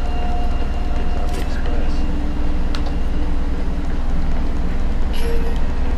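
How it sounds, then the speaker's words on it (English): A train still running in Resident Evil 6 rumbles loud and steady throughout, a dense continuous roar with faint metallic squeals and brief clanks on top. "Oh, the train's still running."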